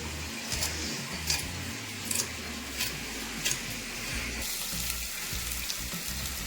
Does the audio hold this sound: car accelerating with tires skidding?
no